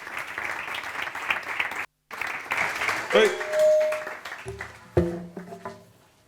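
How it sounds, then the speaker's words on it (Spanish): Applause breaks out at a Spanish-language conference debate on mental health, greeting the AFE general secretary as he takes the floor; the clapping is brief and uneven, with a short dropout and talk mixed in toward the end. "Vamos a dar la bienvenida y un fuerte aplauso al secretario general de AFE, a Diego Rivas"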